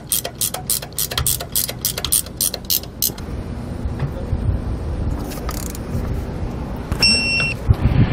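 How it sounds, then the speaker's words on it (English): Socket wrench ratcheting on Jeep Wrangler tow bar bolts: a rapid run of sharp, close metallic clicks in the first few seconds, then quieter handling noises and a short bright metallic chime near the end. "Once I get them both snug, then I'm going to switch to that socket and torque wrench."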